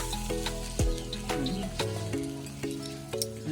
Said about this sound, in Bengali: মাছ ভাজা এখনও রয়েছে এই কটা ভাজবে